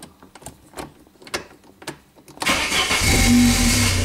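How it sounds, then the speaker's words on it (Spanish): A Saab 9-3 2.0i starter motor cranks continuously with the key stuck in the start position, a loud grinding whir that kicks in after a few quiet clicks and soft background sounds. "Se queda ahí y suena el motor de arranque"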